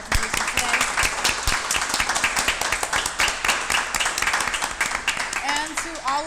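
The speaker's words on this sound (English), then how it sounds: "I just want to give, one more round of applause for Chairman" An audience at a political event gives a dense, sustained round of clapping for Chairman Omali Yeshitela, with voices and cheers mixed into the steady applause throughout.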